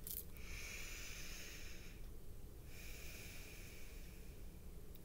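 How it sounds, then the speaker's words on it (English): Slow breathing in and out through the nose, two long soft airy inhales or exhales separated by a short pause, close and quiet with no speech. "Feel the sensation of the air coming in and out of your nose."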